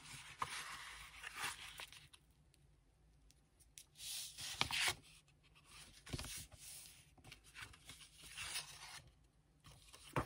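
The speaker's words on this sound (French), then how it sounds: "Et je viens marquer mes plis." Paper being creased along fold lines for a small accordion-fold card, with intermittent soft scraping and rubbing strokes of varied length, close and fairly quiet, with no talking.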